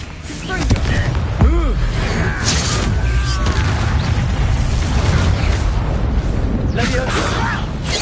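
Spell blasts and booming impacts from a Hogwarts Legacy fire-blasting curse, with loud bursts around the start and near the seven-second mark over a continuous clattering battle din and mechanical creaks.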